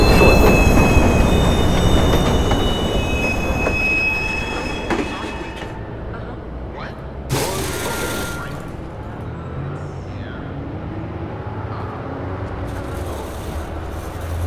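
A Chicago L Blue Line train in the video game Watch Dogs rumbles loudly into the station with squealing wheels, then the noise fades, leaving a quieter hum and a few metallic clanks.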